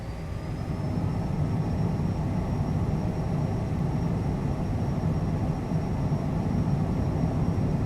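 A CJ4 business jet takes off from the runway at Timisoara in Microsoft Flight Simulator 2020, its engines producing a steady, loud roar with a high turbine whine throughout.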